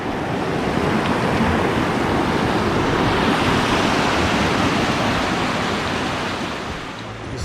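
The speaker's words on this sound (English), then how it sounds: "the rapids are definitely going up a few notches, and this will be our hairiest one yet" Big whitewater rapids on Ontario's White River roar in a dense, unbroken rush, loud and close, holding steady before easing slightly near the end.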